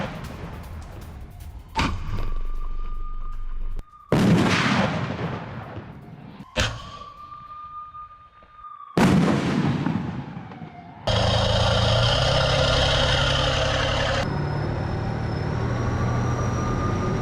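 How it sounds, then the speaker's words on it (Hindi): Heavy artillery fire from a T-72 tank shelling positions in Kherson, heard as several loud, sharp booming blasts with decaying tails, separated by gaps, followed by a sustained dense rumble of continuous fire. "यूक्रेन के सैन्य ठिकानों पर भारी गोलाबारी की है T-72 ने।"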